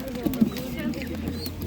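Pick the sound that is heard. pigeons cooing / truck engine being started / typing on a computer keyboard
pigeons cooing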